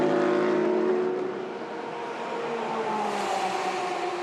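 WEC race cars on a flying qualifying lap at the Bahrain circuit roar loudly past, engine pitch sliding down as one car recedes before another rises in, a continuous close mechanical howl.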